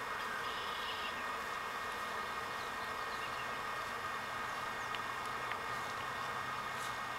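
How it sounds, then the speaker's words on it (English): A swarm of honeybees hums near a hive, a faint, steady drone of many wings with a few nearer buzzes passing by, outdoors and without talk. "What's up with that hive there? Maybe they're excited with the swarm or something"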